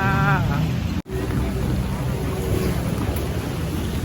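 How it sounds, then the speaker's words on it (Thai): Steady rain falls on a busy street in Yaowarat, Bangkok's Chinatown, a constant even hiss with a brief dropout near the start and faint voices beneath. "นี่นะคะมันฝนตกที่เยาวราชนะคะ"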